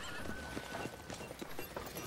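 Horse hooves clip-clop in a steady rhythm with whinnying mixed in, a tabletop roleplay sound effect for an old white horse with black spots, moderately loud and continuous against a busy background.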